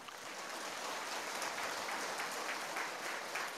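Audience applause at a Buddhist dharma talk in Paris, a steady dense wash of many hands clapping, sustained evenly throughout with no voices over it.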